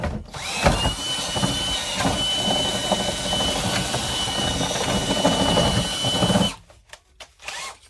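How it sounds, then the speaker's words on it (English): A power drill whines loudly and steadily for several seconds while working on an old Craftsman socket set case, then cuts off, leaving a few faint clicks and handling noises. "The drill bit."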